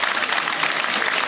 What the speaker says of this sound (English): You can hear the applause in the background from the loyal City supporters